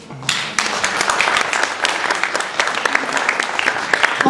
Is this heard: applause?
yes